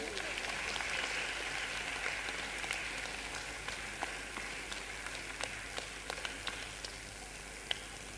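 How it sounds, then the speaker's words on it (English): Sustained audience applause at an Easwaramma Day celebration in Brindavan, honouring students who took part in a quiz, a dense even patter of many hands clapping steadily for several seconds with a few sharper claps standing out. "Let's give them a big round of applause."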